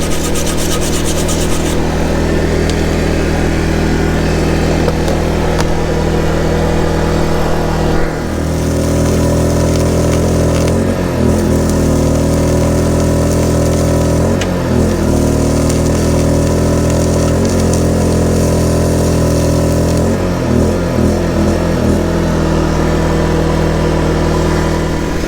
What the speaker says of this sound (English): So now I'm going to try to fill this up with some weld.